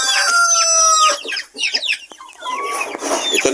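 Chickens and chicks cluck and cheep on a farm, loud close clucking mixed with high peeping calls and a brief crow-like note, busy and overlapping throughout.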